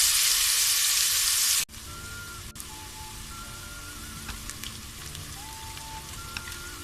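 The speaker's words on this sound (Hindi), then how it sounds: "और अब हम इसमें ये प्याज डाल देंगे और इसको अब हम लाइट गोल्डन ब्राउन की करेंगे।" Sliced onions frying in a pan toward light golden brown for mutton rogan josh: a loud burst of hissing sizzle as they hit the oil, then settling into a softer steady crackle with faint scraping.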